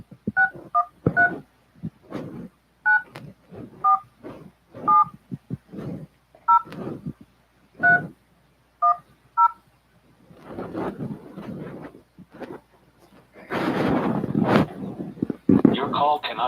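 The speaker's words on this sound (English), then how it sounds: "Back to the dial pad." Telephone keypad tones from dialing a number on a dial pad, a quick run of distinct beeps with brief gaps, clear and close, followed by a person talking and some rustling noise.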